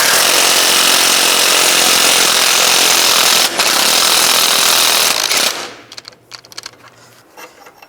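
A 19mm wrench and 17mm socket remove a bolt and nut from a 2005-15 Nissan Xterra lower ball joint, a loud harsh continuous rattling roar, likely a power tool, for over five seconds, then fading to scattered clanks.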